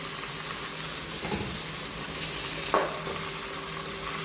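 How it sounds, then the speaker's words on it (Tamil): Toasted peanuts and onions for aval upma sizzle steadily in a pan while a spoon stirs through them, with a couple of scraping strokes standing out over the constant close frying crackle. "இப்போ இது நல்லா வேர்க்கடலாம் நல்லா டோஸ்ட் ஆகிடுச்சு. வெங்காயம்லாம் இப்போது நம்ம இந்த கலவையை இதில் போட்டுக்கலாம்."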